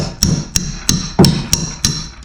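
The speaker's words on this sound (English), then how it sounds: "probably hammer some of them out" Sharp hammer blows strike while old bits are knocked out during the building of a wall or fence, six loud, evenly spaced metallic hits, close up and with no talk.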